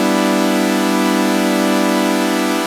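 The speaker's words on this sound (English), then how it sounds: "if you had resonance up, it would sound like this." An Arturia MiniFreak synthesizer holds a sustained tone through a 12 dB notch filter with resonance up, giving a bright, buzzy, harmonically rich drone with a slowly shifting resonant sweep, loud and alone.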